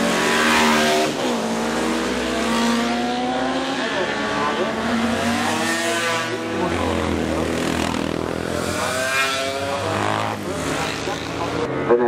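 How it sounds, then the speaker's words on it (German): Horex Imperator racing motorcycle at a classic race revival in a city park, its engine note loud and close, sweeping past with a rising then falling pitch while a commentator talks over it. "Aber liebe Horace Imperator, die hier von Gottfried Weiss gefahren wird,"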